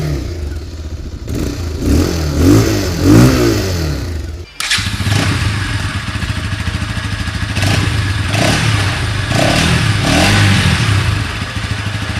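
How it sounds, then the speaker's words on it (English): Two BS6 Bajaj motorcycles, a Pulsar NS200 and a Pulsar 220F, idle and rev one after the other, loud and close, with throaty exhaust pulses, rising blips of throttle, and a brief cut between the bikes. "let's check out the exhaust notes of both of these bikes back to back"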